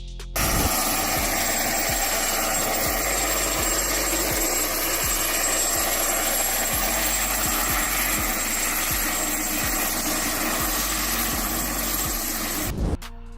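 A $40K helicopter flies nearby with a steady close rotor drone and a regular chopping pulse, running continuously with no talk.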